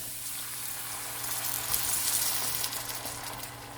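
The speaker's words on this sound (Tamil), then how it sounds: "இப்போ இதை வதக்கி விட்டுட்டு இதுக்கு தேவையான தண்ணி சேர்த்துக்கலாம்." Water is poured into a pan of sautéing beans and green gram, giving a hissing sizzle and bubbling that swells midway and then settles, with no talking.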